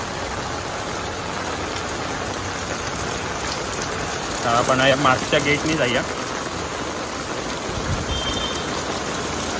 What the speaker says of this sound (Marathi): किती जोरदार पाऊस होतोय बघा.